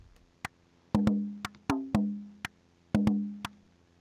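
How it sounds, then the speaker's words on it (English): A synthesizer physical model of a conga hand drum plays a sparse pattern of dry, close hits, some with a ringing resonant tone that decays quickly, with soft slap accents between them and no talking. "which sounds like a conga or some other kind of hand drum"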